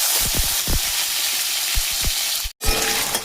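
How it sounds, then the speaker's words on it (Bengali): Potatoes frying in oil with a little cumin, a steady hot sizzle broken by repeated low thuds of a spatula turning them, then a brief cut-out before the frying resumes. "আলুগুলোকে ভেজে নিলাম এরকমভাবে ভেজে নেব"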